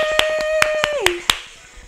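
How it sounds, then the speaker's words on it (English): Scattered sharp hand claps, about five in under two seconds, ring out in a living room after a home workout, with a sustained tone humming beneath them. "Give yourselves a big round of applause."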